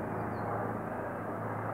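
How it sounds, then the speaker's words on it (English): A steady, broad roar of airplanes passing overhead in the London sky, distant and continuous throughout with no voices. "these weird planes that keep coming over."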